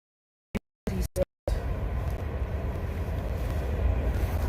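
Low, continuous rumble of a train passing along a railway track at a distance, following a few brief bursts of handling noise, heard steady and fairly faint with no talk.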